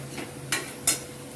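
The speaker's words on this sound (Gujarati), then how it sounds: "અને મરચું નાખ્યા પછી પાછું બધું મિક્સ કરી નાખીએ." Two quick scraping clinks of a spoon stirring red chili into bitter fenugreek curry in a pan, close and alone with a faint sizzle beneath.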